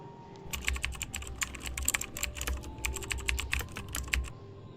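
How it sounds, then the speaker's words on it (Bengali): Keys clatter steadily as a search term is typed on a keyboard while looking up the autofill service setting, a quick run of close, crisp taps with short pauses between bursts. "অটোফিল সার্ভিসটি টাইপ করব।"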